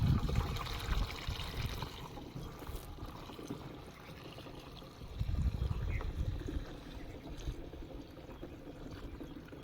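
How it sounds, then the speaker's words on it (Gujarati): Water is poured onto a pesticide mixture being prepared for spraying weeds in a groundnut field, giving a soft, faint trickling and splashing that swells twice, with some low rumbling handling noise. "હવે આ જે દવા નાખી એના માથે આપણે નાખી દઉં થોડુંક પાણી"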